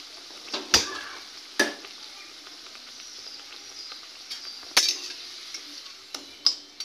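Pieces of a pea and flour snack deep-fry in hot oil with a steady, close sizzling hiss, broken by a few sharp clicks of a slotted spoon against the pan.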